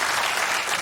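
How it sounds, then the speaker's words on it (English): A television chat show's studio audience breaks into loud, dense applause, a bright continuous burst of many hands clapping close up, heard only briefly. "Can I get a round of applause for that?"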